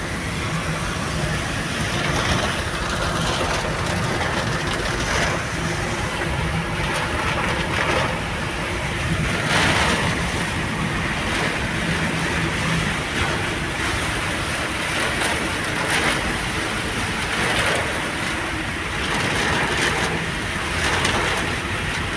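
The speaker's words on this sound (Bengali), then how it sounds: "বৃষ্টি কাকে বলে" Heavy rain pours steadily on the Dhaka-Chattogram highway near Feni, a dense, constant roar of falling water mixed with gusty wind noise for the whole stretch, with no voices.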